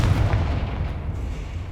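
A Confringo fire spell blast in the Hogwarts Legacy video game, a short muffled explosive boom with a low rumbling tail.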